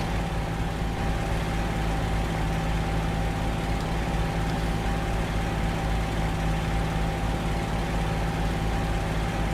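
A P-40E-1 fighter's piston engine in IL-2 rumbles steadily while the aircraft taxis, a loud continuous low drone with a constant hum and no pauses.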